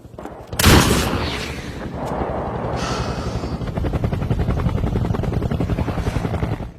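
A sniper rifle fires a single loud, sharp shot near the start, followed by a sustained, rhythmic chopping rumble that continues to the end.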